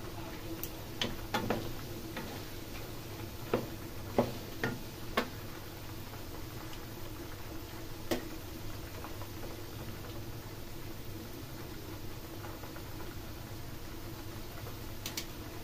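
Peanuts, some with their skins removed, fry in a pan for adobong mani, giving faint, sparse ticking crackles over a steady low background hiss.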